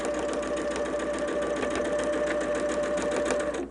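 A sewing machine runs steadily stitching quilt fabric for a holiday block, a fast continuous mechanical whir with a steady tone, close and unbroken throughout.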